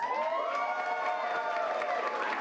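A crowd at an improv comedy show claps and cheers for Centaurs on Ice, a dense, steady wash of applause that stays loud and even throughout with no pauses.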